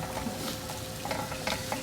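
Fried rice stir-fried in a pan, giving a steady close sizzle with scraping and stirring strokes and occasional louder clatters of the utensil against the pan.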